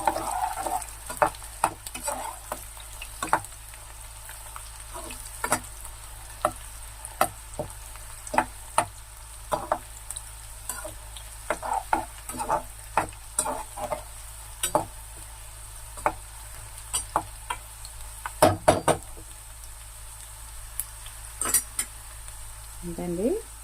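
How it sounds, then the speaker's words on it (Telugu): Dried red chillies, some halved and some whole, fry in oil for gongura pickle, a low steady sizzle broken by many sharp clinks and scrapes of a spoon against the pan, with no talk. "ఇప్పుడు ఎండుమిరపకాయలు వేసుకోవాలి."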